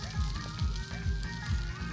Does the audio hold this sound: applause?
no